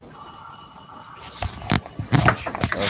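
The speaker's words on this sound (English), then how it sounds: "Somebody's getting a phone call." A phone rings with an incoming call during a relaxed Friday night gathering, a steady high electronic tone running through the clip alongside background noise and clatter, no talk.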